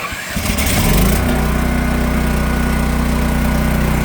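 A Champion dual fuel generator engine cranks and catches, then settles into a loud, steady idle that runs on without any talking.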